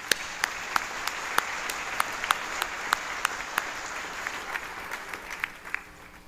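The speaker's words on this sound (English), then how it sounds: "Let's give them a round of applause." Commencement audience applauding faculty and staff at a spring college graduation ceremony, a sustained broadband wash of clapping with sharp individual claps standing out, steady then tapering off toward the end.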